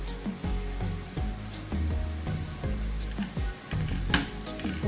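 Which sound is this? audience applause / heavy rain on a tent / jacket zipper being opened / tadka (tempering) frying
tadka (tempering) frying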